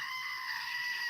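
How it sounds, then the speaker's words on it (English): A screaming goat sound effect: a sustained, loud, shrill cry held steadily for about a second, heard alone. "Yes, you get a screaming goat."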